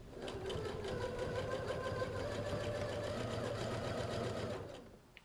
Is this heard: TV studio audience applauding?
no